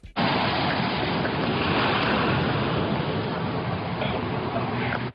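Loud, constant roar of crashing ocean surf in a cartoon, a dense wall of wave noise that fills the whole stretch with no talking.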